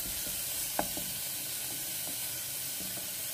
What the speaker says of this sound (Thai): ผัดจนความหอมออกมานะคะ